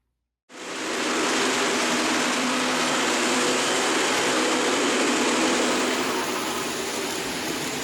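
A steady, broadband rushing rumble of a model train running continuously on a layout after a sudden start, loud and close with no pauses.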